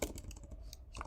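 Quick, soft keystrokes on a computer keyboard patter in a steady run of close, faint clicks with no voice over them.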